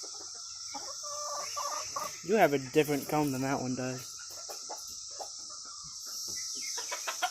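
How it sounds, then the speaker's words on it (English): Chickens and bantam roosters on a farm, with close, loud clucking bursts in the middle over a steady high insect drone, while a person talks nearby. "We've got like 100 chickens. There's more over there. Got roosters and bantam"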